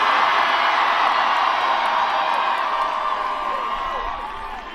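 A large outdoor crowd roars steadily at a Bernie Sanders presidential primary rally in Washington Square Park, New York, a dense wash of cheering and whoops that holds loud throughout and eases off slightly at the end.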